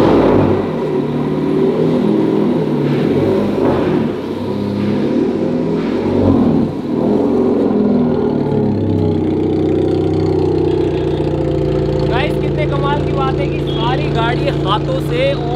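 A handmade Bugatti Centodieci replica car built in a garage, its engine running loud and close with rising revs and a steady drive, with people talking over it.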